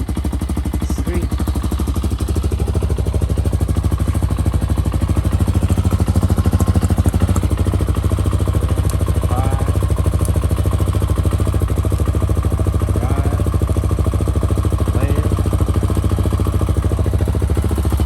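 A 2020 Hawk 250 DLX EFI motorcycle engine idles steadily right after its first start, a close, even mechanical putter with light clatter that holds constant throughout.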